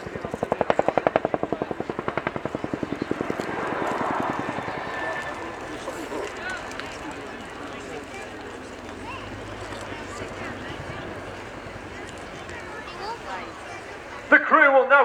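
Boeing Chinook HC4 twin-rotor helicopter of No. 18 Squadron RAF performing a turning display manoeuvre at the RIAT airshow at Fairford, its rotor chop pulsing clearly at first then settling into a fainter roar beneath an announcer's commentary.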